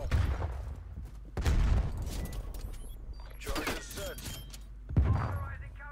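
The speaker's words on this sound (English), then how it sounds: "Someone just shot at me, but I don't know where from." Gunfire in Black Ops Cold War multiplayer aimed at the player, heard as a few sharp bursts scattered over game noise and ambient sound, with shots landing at intervals rather than as continuous fire.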